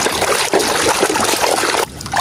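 Water trickles and splashes steadily over a toy car being washed, a close, continuous running stream with a brief drop in flow near the end.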